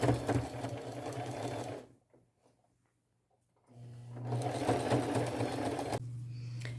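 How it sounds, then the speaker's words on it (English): A sewing machine runs a large zigzag stitch around patches on a bucket hat, a close steady mechanical whir in two bursts separated by a quiet pause, with no talking. "Large zigzag stitch, sew around the top, sew around the bottom, come back in and catch the sides of those patches."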